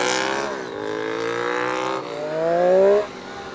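A brand-new 2017 Triumph Street Triple 765 RS motorcycle revving on a ride, its engine climbing in pitch, dropping, then surging louder to a high rev before easing off.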